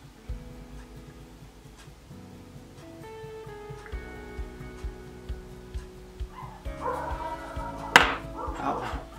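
Several dogs outdoors bark, yip and whimper excitedly, with short bursts of barking repeating throughout and growing louder toward the end, heard fairly distant from inside with some background voice.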